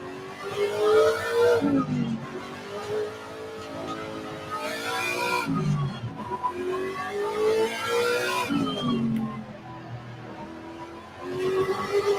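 Race car engine in Assetto Corsa Competizione revving up through the gears and dropping on downshifts during a warm-up lap, loud and continuous with repeated rising pitch sweeps, no voices.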